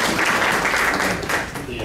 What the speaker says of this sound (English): The applause just makes it less odd.